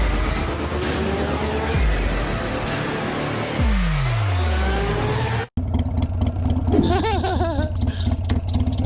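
A 2019 Harley-Davidson Fat Bob motorcycle engine idles loudly up close, revs hard with rising and falling pitch sweeps, then cuts out abruptly before lower, rougher revving resumes.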